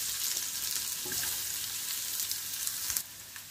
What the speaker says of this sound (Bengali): এখন দিয়ার কিছু গার্লিক রসুন আছে, এই রসুনগুলা আগে থেকে কাটিয়ে যে রসুনগুলা রাখছিলাম এগুলো দিয়ার।